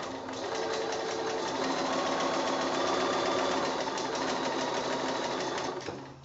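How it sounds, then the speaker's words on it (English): A sewing machine stitches quilt pieces along a diagonal line, a steady close rapid whirring hum that runs unbroken for several seconds, then stops, with no talking. "So I'm going to sew on right along that diagonal line that goes from point to point of the white square."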